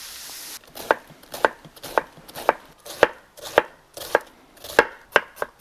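A knife chopping through cabbage onto a board in a steady series of about ten crisp thuds, close up, with no talking.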